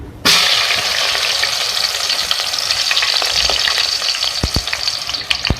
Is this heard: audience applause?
no